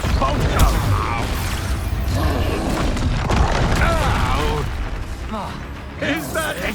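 An Expulso blasting spell detonates in Hogwarts Legacy on PC, loud booming explosions with mechanical clatter and bursts rolling through a dense combat mix, with voices and creature cries mixed in.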